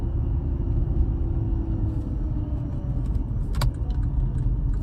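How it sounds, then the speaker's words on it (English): Interior of a 2011 Porsche Panamera with a faulty, noisy engine: a steady loud rumbling drone with a faint whine, plus small squeaks, rattles and a brief jangling clatter near the end, no voices. "so I'm hearing squeaks and rattles. I don't know if they're picking up too well on the camera here, but also the engine whine a little bit that I can hear."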